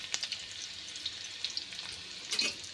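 Garlic and dried red chili tempering in hot oil for a methi aloo dish, giving a steady close sizzle with scattered crackling pops over about three seconds, no voices.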